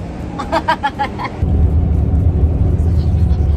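Inside a moving bus, a steady low engine rumble fills the cabin, with people talking and laughing briefly at the start before the drone takes over.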